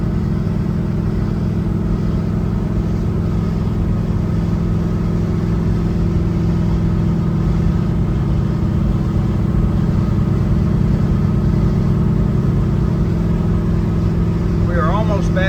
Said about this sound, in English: shifts through all the gears easy